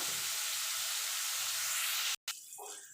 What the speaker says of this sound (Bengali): এবার উচ্ছাটাকে আমি ভেজে নেবো